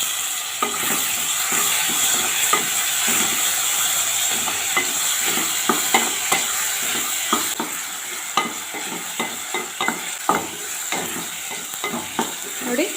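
Chopped tomatoes frying with browned onions in a pan for chicken liver pepper fry, a steady sizzle with frequent sharp scrapes and taps of a stirring spoon throughout, no voices.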